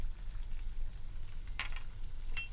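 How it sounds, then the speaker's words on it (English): Ginger and garlic sauté in a pan for a cashew curry, giving a soft, steady sizzle with a couple of faint utensil taps; no talking. "we're going to saute those as well"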